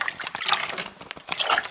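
Water splashing and trickling onto wet clay on a pottery wheel, a short burst of close, sloshing, dripping sounds without speech.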